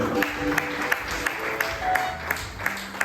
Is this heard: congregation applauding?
yes